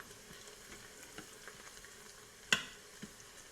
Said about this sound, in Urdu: جب آئل گرم ہو جائے تو اس کے اندر ایک میڈیم پیاز باریک کٹی ہوئی وہ شامل کر دیں گے، اور پیاز کو براؤن ہونے تک پکائیں گے۔